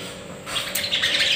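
A sogon bird, being trained as competition stock, chirps in short bright tweets that grow louder over a steady background hiss and hum, with no talking.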